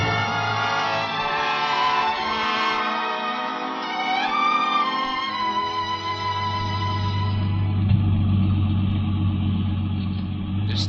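Taxi cab engine idling as a live radio-theatre effect on a rainy night: a steady low hum that grows stronger midway and runs under soft tonal music, with no talk.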